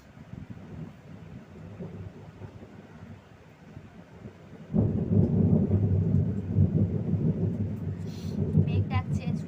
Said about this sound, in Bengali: মেঘ ডাকছে, শুনতে পাচ্ছ তোমরা?